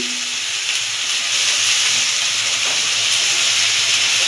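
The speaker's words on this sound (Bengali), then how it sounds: "হালকা লাল করে তাকে ভেজে নেব" Chopped onion fries in oil over a medium flame, a loud, continuous hissing sizzle that swells slightly partway through.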